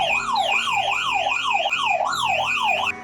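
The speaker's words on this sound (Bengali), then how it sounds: "শাটার খোলার সাথে সাথেই সাইরেন বেজেছে এবং কল চলে এসেছে।" A GSM security alarm siren wails loudly and close, sweeping up and down in a quick repeating cycle with a higher shrill tone layered above, then cuts off abruptly.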